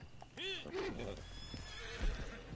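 A horse in the video game Red Dead Online gives a clear descending whinny, followed by snorting and faint clip-clop hoofbeats, all fairly quiet within the game's ambient sound.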